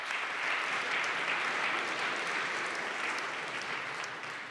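An indoor audience at an awards ceremony claps steadily in a dense, even wash of applause that fades slightly toward the end.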